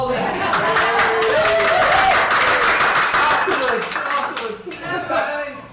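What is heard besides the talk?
audience clapping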